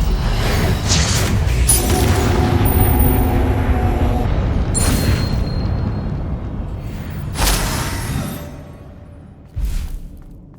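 A Bombarda blasting spell goes off in Hogwarts Legacy, giving a loud sustained booming rumble with crackling debris that fades, then two more sharp impacts near the end.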